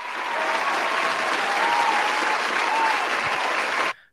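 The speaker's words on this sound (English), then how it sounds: "That deserves a round of applause." Applause marks the moment on a wrestling news podcast episode, a uniform, sustained hiss of clapping that runs evenly for about four seconds before cutting off abruptly.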